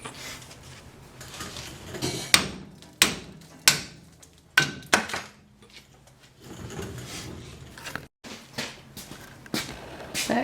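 Sharp metal-on-metal hammer strikes on new springs for a 1955 Willys CJ5, a loose series of about eight loud, separate blows with short pauses, close by and with no talking.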